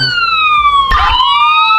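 Police sirens in a role-play driving video game, a loud wailing siren with a falling then rising pitch, a brief burst of noise in the middle.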